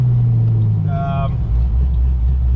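Steady low engine rumble and road noise fill the inside of a moving car, with a brief tonal whine rising midway.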